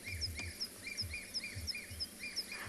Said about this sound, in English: I was listening out to the birds.